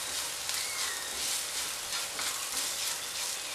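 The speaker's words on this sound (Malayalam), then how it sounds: "ഇതെല്ലാം ഒന്ന് ഒന്ന് രണ്ട് മിനിറ്റ് ഒന്ന് വഴറ്റി കൊടുക്കണം" Spices and pepper powder are sautéed in a pan while making a lady's finger (okra) mappas curry, producing a steady, dense sizzle that holds even throughout, close and without speech.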